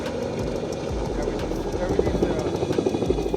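Helicopter hovering overhead while setting rooftop units at a large warehouse, a steady rhythmic rotor chop and engine roar, loud and continuous, with people talking underneath.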